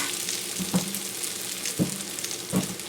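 Bacon drippings, bacon pieces and spinach fry in a pan with a steady close hiss, broken by three soft thuds of stirring or a spoon against the pan, with no talking.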